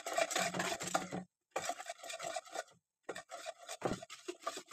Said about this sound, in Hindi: थोड़ा थोड़ा डाल के चलाते रहूँगी